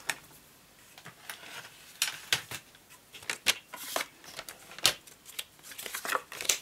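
Scissors cut a piece of card for a wave pop-up card, giving quiet, close snips and rustles in an irregular run with no talk.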